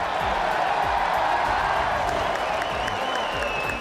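Spectators clap and cheer steadily as a woman drains a cup at a lively gathering, dense continuous clapping mixed with crowd noise and a faint whistle-like tone, fairly loud throughout.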